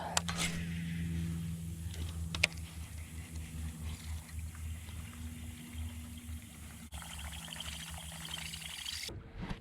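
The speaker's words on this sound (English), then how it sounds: "we're pretty much just motoring across the lake now" A steady low motorboat engine drone hums throughout, running continuously at a distance across a muddy reservoir, with faint water and hull noise.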